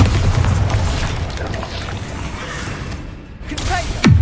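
Bombarda blasting spell from Hogwarts Legacy, a deep booming explosion rumbling loudly throughout, ending with a sharp whooshing burst.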